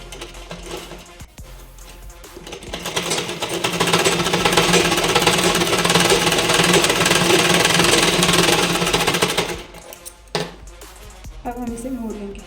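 A sewing machine runs steadily for several seconds while stitching a blouse with tucks and a belt, a dense continuous mechanical whir, rising after a short pause and stopping abruptly, with quieter handling sounds before and after.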